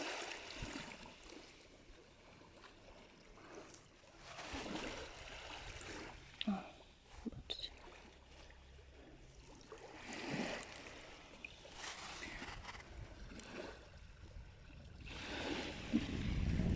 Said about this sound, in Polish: Ten szum morza.